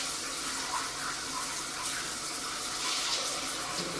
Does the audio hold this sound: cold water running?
yes